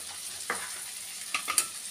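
An egg mixture seasoned with salt, turmeric and cumin is stirred in a frying pan, giving a low sizzling hiss with a few short spatula scrapes and taps near the middle and end.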